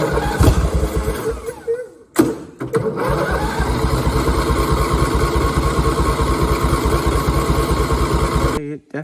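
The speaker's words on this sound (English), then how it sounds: "I'm gonna try and start it now and see what happens" An Intek twin engine swapped into a Murray mud mower cranks, catches and settles into a steady, rapid putter after a brief stall and restart, close and loud until it cuts off near the end.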